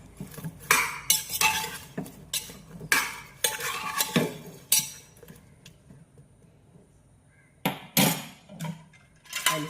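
Food stirred in a pot on a stove, a ladle scraping and clanking against the metal in bursts of rapid strokes, with pauses between them, close and moderately loud.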